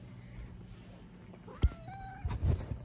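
A sphinx cat meows indoors, a few short rising calls near the middle and end, moderately close but fairly soft, with faint room noise and a brief bump before the first call.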